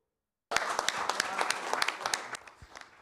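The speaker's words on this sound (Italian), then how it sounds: "Un applauso alla conferenza indetta dalla Federazione Nazionale della Stampa accoglie il rientro in Italia di Mauro Donato" A burst of applause from a room of journalists at a national press federation conference welcoming home an Italian photojournalist, beginning abruptly after silence and fading near the end.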